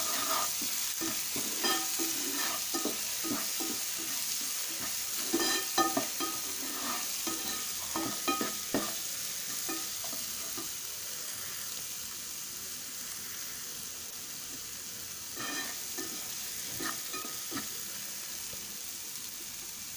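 Cluster beans with turmeric and salt are stirred in a hot pan, a spoon scraping and clinking in bursts over a constant sizzle, close and without talk.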